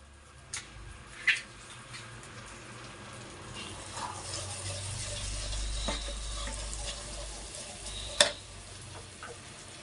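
Sweet corn masala frying in a pan, a soft steady sizzle with occasional stirring clicks and scrapes, a few sharper taps standing out, no talking.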